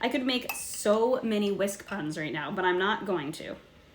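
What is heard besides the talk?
No everyday noise stands out behind the speech.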